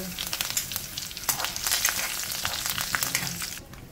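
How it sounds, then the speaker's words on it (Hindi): Hot oil sizzles and crackles steadily as mustard seeds and curry leaves fry, with sharp pops scattered throughout and no voices. "राई अच्छे से फूटेगी तब अपन उसमें हींग डालेंगे, कड़ी पत्ता डाल रही हूँ"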